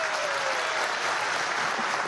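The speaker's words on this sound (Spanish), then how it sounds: "Para ella un aplauso." Sustained applause from a large crowd at a political rally where Maduro receives a peasant march, a dense, even roar of clapping lasting throughout.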